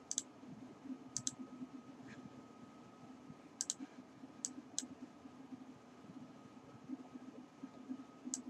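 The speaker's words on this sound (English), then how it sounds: "Click Apply and click OK." Computer mouse clicks in a quiet room, a handful of sharp, faint single and double clicks spaced irregularly over a low steady hum.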